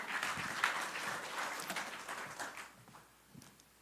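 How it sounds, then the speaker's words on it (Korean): Church congregation applauding during a Sunday afternoon worship service, a brief, lively round of many hands clapping that tapers off into a quiet, thinning patter near the end. "이제 박수 한번 주세요"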